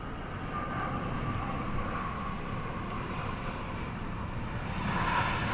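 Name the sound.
Asiana Airlines airplane at Seoul Incheon Airport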